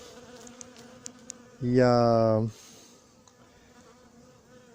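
A bee buzzes loudly and close for about a second, a droning hum that passes by at an apiary, with a few faint spoken words around it.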